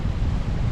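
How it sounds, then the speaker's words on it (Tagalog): Strong wind gusts by the sea buffet the microphone in a steady, dense low rumble, loud and close, with no voices over it. "Malakas na yung hangin"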